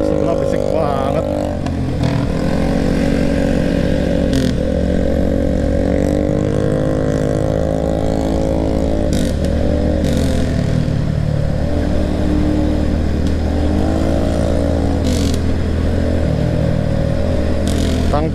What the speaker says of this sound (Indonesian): Sumpah, ini motor sebelah berisik banget.